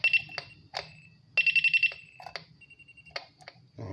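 An Intelbras IPR8000 intercom under repair sounds a sharp electronic beeping tone in bursts. One fast stuttering run of pulses stands out among clicks and handling noises, all close and clear.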